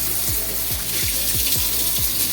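A low-cost shower booster pump pushes water at about 1 bar, a steady rushing spray with a faint repeating mechanical tick underneath, close and continuous with no talking.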